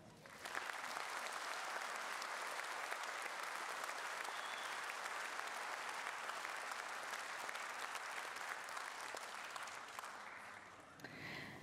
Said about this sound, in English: Please join me in a round of applause for Miss Beverly O'Connor